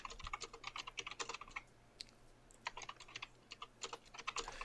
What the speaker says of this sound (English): She's tippity tapping away. Can you hear it?